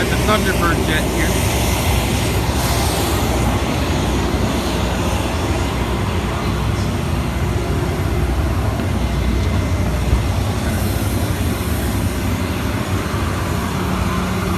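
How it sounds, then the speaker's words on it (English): A Thunderbird jet passes over the Cleveland National Airshow, giving a continuous, loud, broad roar that holds steady throughout, with people talking faintly in the background. "Got the Thunderbird jet here."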